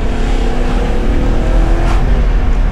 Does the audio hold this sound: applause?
no